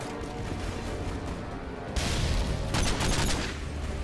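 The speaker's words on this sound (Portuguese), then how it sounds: "Jogou outra granada." Grenade blasts and gunfire from Call of Duty Modern Warfare 2, a dense battle din that swells into a louder burst midway, then a second heavy eruption, with no talking.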